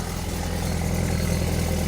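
A 2022 Honda Civic engine idling with an exhaust leak, a steady low rumbling drone with a faint rhythmic pulse, close by and with no talk.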